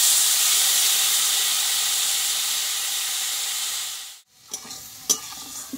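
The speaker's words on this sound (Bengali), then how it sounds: "জলটা দিয়ে কিন্তু এইবার সুজিটা ভালোভাবে কিন্তু ভেজে নেব" Semolina frying in a pan with a little water just added gives a steady, loud hiss and sizzle that suddenly stops, followed by a few close scraping stir sounds.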